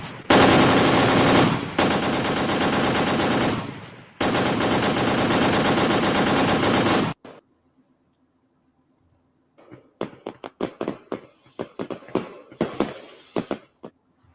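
Rapid bursts of gunfire rattle loudly and continuously for several seconds, then after a brief silence a scattered series of sharp firework-like pops and cracks crackles irregularly.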